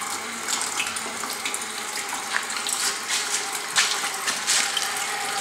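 Water pours steadily onto a small model water wheel at a school science fair hydroelectricity experiment, a continuous close splashing wash with no talking.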